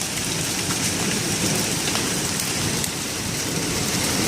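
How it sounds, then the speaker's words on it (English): Hail pelts down during a hailstorm, a dense, steady, loud hiss and patter of impacts filling the whole clip with no voices. "Oh my God, it's hailing!"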